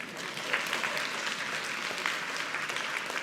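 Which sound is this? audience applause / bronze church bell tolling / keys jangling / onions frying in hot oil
audience applause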